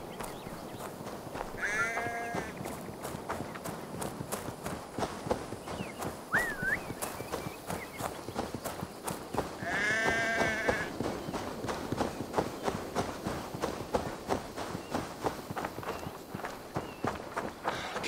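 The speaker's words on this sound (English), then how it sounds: "The sheep follows my whistle." Sheep bleat in Assassin's Creed Valhalla, two distinct quavering calls a few seconds apart over steady rapid footsteps on soft ground, moderately close.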